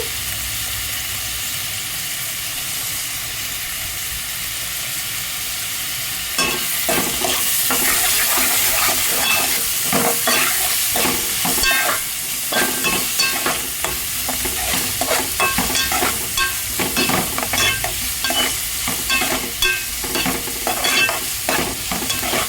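Egg curry masala with salt and turmeric fries in a pan: a steady hiss at first, then loud, busy stirring and scraping with continuous sizzling, close up and without voices.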